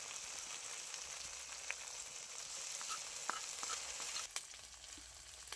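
A paste of ground whole cumin, coriander and chilli fries in oil in a pan, giving a low steady sizzle with scattered pops and a couple of light clicks.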